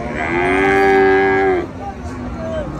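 Bulls moo loudly and close by in one long, drawn-out low call at a cattle market in Comilla, Bangladesh, followed by quieter lowing and the background murmur of the busy market.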